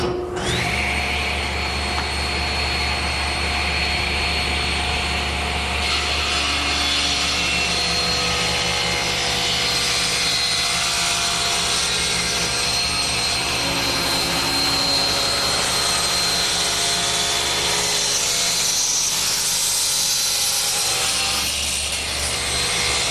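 A table saw cuts a long taper in a wooden desk leg riding in a taper jig along the rip fence, with a steady loud whine and blade hum throughout and no talking.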